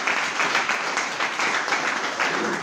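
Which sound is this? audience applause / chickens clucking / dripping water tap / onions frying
audience applause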